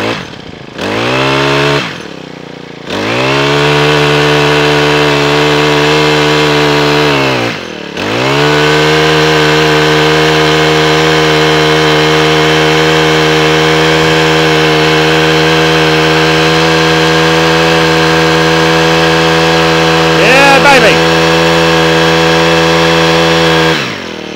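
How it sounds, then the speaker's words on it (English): Small petrol engine of a Honda trimmer started and running, loud and close, with a steady high buzz that dips briefly near the start and then holds a constant pitch. "Bit of kit that is a lovely bit of kit, is that little Honda trimmer"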